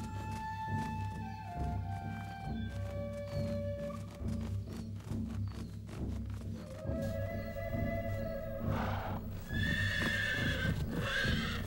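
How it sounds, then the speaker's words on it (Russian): Horses in an animated children's adaptation of The Last of the Mohicans neigh and whinny repeatedly over a steady musical score, with clip-clopping hooves and louder, shrill whinnies near the end. "Лошади почуяли наш запах."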